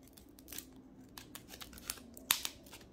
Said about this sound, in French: Je vais essayer d'aller avec les ciseaux.